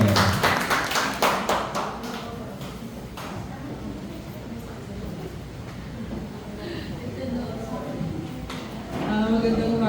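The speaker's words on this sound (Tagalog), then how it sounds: "Palakpak po para sa ating Panginoon." Scattered clapping from a church congregation comes in uneven bursts at the start and end, with speech running through the middle of the clip.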